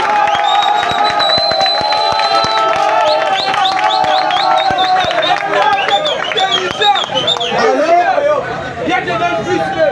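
A large crowd at a Gabonese political rally for a referendum roars with cheers, chatter and whoops, a dense, loud wall of voices that swells and shifts throughout without pause.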